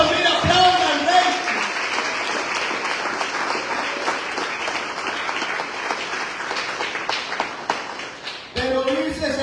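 A church congregation applauds steadily for several seconds, dense and sustained, with some shouting mixed in before the clapping tapers and a voice speaks.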